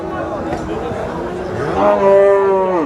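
A large Friesian cow, about two teeth old, gives a long, loud, close moo at a rural cattle market, rising and drawn out, with faint crowd chatter behind.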